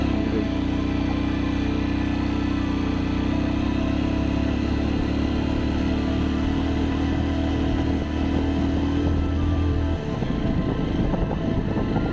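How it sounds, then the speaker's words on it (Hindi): A motorbike on a rough road to Leh labours along at about 20 km/h, its engine giving a loud, constant drone whose tone drops abruptly near the end. "मेरी बाइक भी जान तोड़ रही है"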